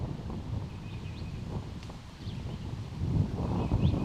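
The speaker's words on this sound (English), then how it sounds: "You hear a little bit of that wind picking up." Steady wind gusting outdoors on an open disc golf course at a ranch, a broad low rumble that swells louder toward the end, with faint rustling and no talk.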